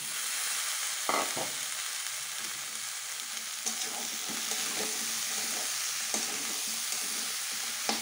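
Potatoes and chickpeas frying in a pan for ghugni, a steady loud sizzle throughout with a few sharp scraping strokes of a spoon as the mixture is stirred.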